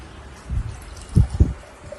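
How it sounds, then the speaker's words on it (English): Water is poured into a cup to make a lava lamp, giving a few short splashing, gurgling bursts close by, with no talking. "First we put the water in"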